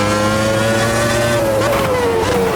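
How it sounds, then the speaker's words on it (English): A Renault V10 race car engine in Automobilista 2 screams at high, steady revs, loud and close, its pitch holding then easing slightly downward as it runs on. "the V10 that I'm driving, the Renault V10, is quite good"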